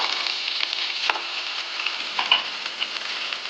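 Onions sauté in hot oil with a constant close sizzle, dotted with small ticks and light pops and a couple of soft spoon knocks, no speech.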